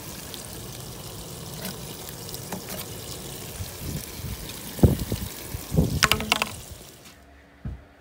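Water flushing out of a Viessmann Vitodens 100 combi boiler system fouled with sludge, a steady rushing pour with splashes and clunks, ending abruptly.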